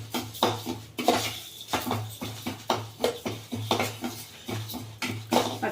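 Chutney powder roasting in a pan is stirred steadily, giving close, rhythmic scraping and clinking strokes about once every half second, with no talking.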